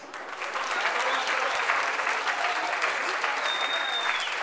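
Wedding guests at Searles Castle in Wyndham, NH applaud the bridal party, a full, steady round of clapping from a room of people, with faint voices mixed in.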